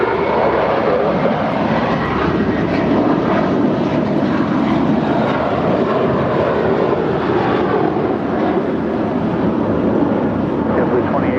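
A JetBlue Airbus A321 jet taxis at LAX, its engines giving a loud, continuous broadband roar that holds steady from start to finish, with faint radio voices underneath.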